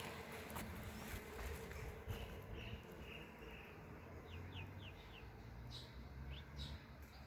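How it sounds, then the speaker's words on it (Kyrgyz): Faint, distant birdsong drifts over a steady hum of outdoor ambience: a few short, high chirps scattered through a quiet residential street of paving stones in Osh's Cheryomushki neighbourhood. "Куштардын сайраганын угуп жатасыздарбы?"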